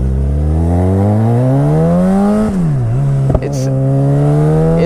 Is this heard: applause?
no